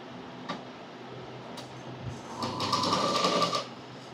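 A sewing machine runs in a brief whirring burst while stitching Punjabi dress fabric, preceded by a few soft clicks and handling taps, close and clear with no talking.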